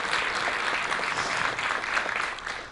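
An auditorium audience at a talk claps in steady, sustained applause, a dense even patter of many hands at moderate distance with no voices over it.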